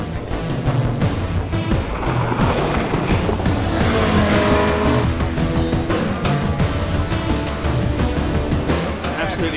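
Audi R8 pushed hard on a track with handbrake turns, its engine roaring loud and close while tires squeal and skid, a dense continuous wall of motor and tire noise with a voice faintly mixed in.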